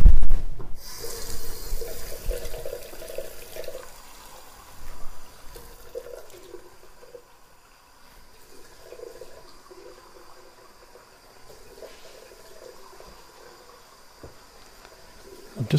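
Water running steadily while hair is rinsed, a loud splashing rush at first that settles into a quieter continuous flow with occasional louder gushes.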